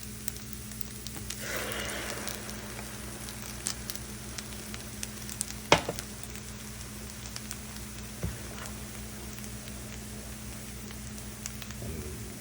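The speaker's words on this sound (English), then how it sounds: "We're gonna dump the eggs in. We're gonna scramble them quick, and then incorporate them into the rest of the rice." Eggs scrambling in a hot pan with crispy rice, a steady sizzling fry throughout with a few brief louder crackles and scrapes, no talking.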